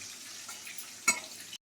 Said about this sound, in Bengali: শুকনো লঙ্কা, তেজপাতা, পাঁচফোড়ন আমি এখানে ভাজছি